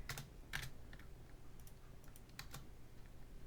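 Quiet, sparse taps on a computer keyboard, a few separate keystrokes and short bursts close by over a faint room hum, with no talk.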